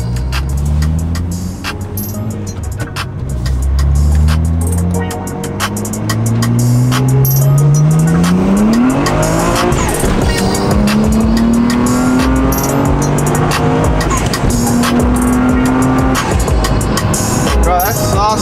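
A BMW 328 pulls hard in second gear, its engine note rising steadily in a loud, close, continuous surge inside the cabin, with voices talking over it.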